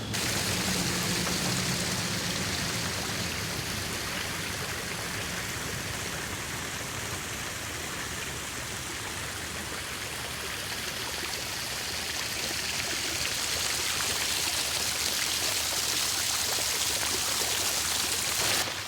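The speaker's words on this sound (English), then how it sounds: "This is the pipe from the final clarifiers. This is secondary waters coming in right here." Treated secondary water pours steadily from a final clarifier pipe at a recycled water plant, a continuous broad rushing splash like a stream, fairly loud and close, with no talk.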